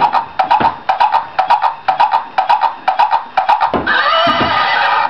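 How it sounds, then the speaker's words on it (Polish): A toy rocking horse plays a repeated recorded horse neigh and whinny, several short electronic bursts in a steady rhythm, then one longer sustained whinny near the end, close and clear with no talking. "I konik robi i haha."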